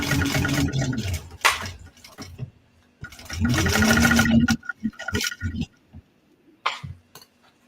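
A home sewing machine stitches a fabric bag, running in two steady bursts with a whirring hum, separated by clicks and handling noises, with a little quiet talk in between.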